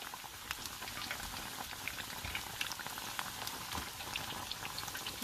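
Cordon bleu cooking in a pan on low heat gives a soft, steady bubbling sizzle with scattered faint pops throughout.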